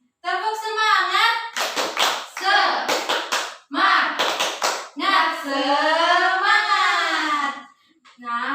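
A primary-school class does rhythmic 'tepuk semangat' hand clapping, short bursts of group claps alternating with loud chanted children's and teacher's voices.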